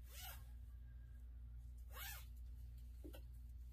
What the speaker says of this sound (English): Oh, it's just a little mesh bag with a zipper on it.